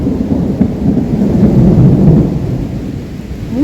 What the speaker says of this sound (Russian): Опять дождь.